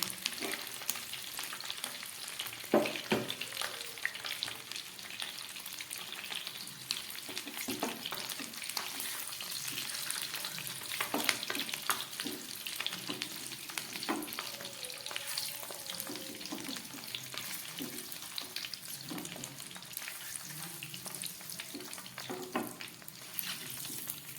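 Steady sizzling of eggs frying in oil, with occasional scraping and stirring clicks from a utensil, close by and continuous throughout.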